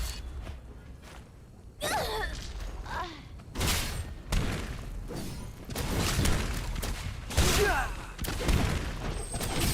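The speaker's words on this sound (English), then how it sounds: "Stop shooting your goddamn cannon." Cannon fire in an online multiplayer video game, several booming shots with crackling, sweeping blasts at irregular intervals over a rumbling battle backdrop, fairly loud and close.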